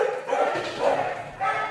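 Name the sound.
dog barking in an animal shelter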